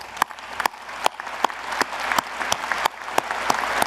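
Dense applause from an audience at a national defense strategy committee meeting, with a few sharp individual claps standing out as it builds steadily, loud and close, with no talk over it.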